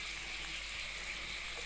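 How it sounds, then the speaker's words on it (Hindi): Onion fries in a pan toward light brown for a tinda recipe, giving a steady, even hiss of sizzling oil with no pauses and no voice. "अब हम इस प्याज को लाइट ब्राउन करेंगे।"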